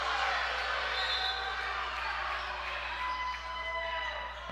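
A crowd of Blue Devils fans cheers and protests loudly at a varsity boys high school basketball game, Model at Dade County, a steady broad roar of voices filling the gym throughout.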